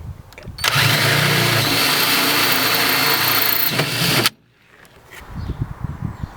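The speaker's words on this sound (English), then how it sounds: "drill some holes for the mounting brackets" A loud power drill whirs continuously for about four seconds, drilling mounting bracket holes in a camper van, then stops abruptly, leaving quiet shuffling and handling noises.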